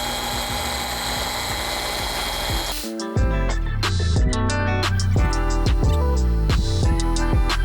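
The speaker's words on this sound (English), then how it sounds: "the speed at which Nick is moving the polisher is very slow" A car paint polisher runs while its pad is moved slowly across the bodywork, first a steady whine, then a deeper, louder droning hum with shifting pitch as the load changes.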